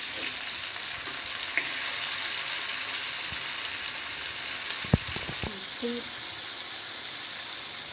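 Tomatoes and onions frying in oil for restaurant-style mushroom masala, an even, close sizzle with a few brief knocks and scrapes of a utensil in the pan.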